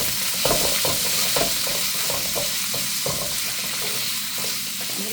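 Beef stir-fries in a hot pan with a loud, continuous sizzle while it is stirred constantly, and the utensil makes a quick series of rhythmic scrapes and clacks, with no talking.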